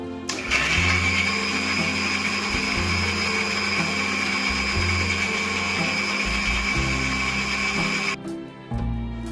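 An electric blender purees boiled tomatoes, garlic and red chilies into a paste, with a loud, steady motor whine and a churning rumble that lasts the whole time before it briefly cuts out near the end.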